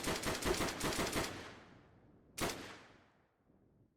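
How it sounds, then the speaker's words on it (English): Rapid burst of roughly eight sharp gunshots from a rifle in an Unreal Engine multiplayer game, then a pause and one more loud shot, each ringing out with a fading reverberant tail. "So dry fire, gunshot, gunshot, gunshot, and then firing VFX."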